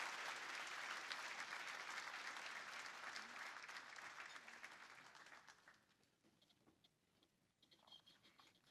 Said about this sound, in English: Everybody give Michelle a big round of applause